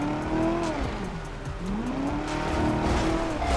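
In GTA 5, police and suspect cars engine tones rise and fall through a chase, with a swooping pitch dip and tire noise as a PIT maneuver is attempted, steady and fairly loud with no talking.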